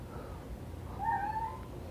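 A pet cat named Clancy lets out a single short, high squeaky meow partway through, fairly faint against a quiet indoor room.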